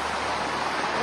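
Small waterfall in a Hawaiian forest along the Waimano Ridge hike, a steady close rushing hiss of falling water.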